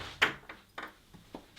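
Wardrobe doors opened in an art studio room, a few close wooden knocks and soft thuds spaced about half a second apart, with no talking.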